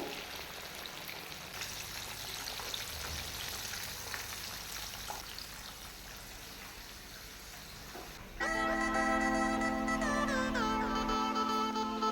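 KFC-style fried chicken pieces frying in a pan give a soft, continuous crackling sizzle, fairly faint, before music swells in over the last few seconds.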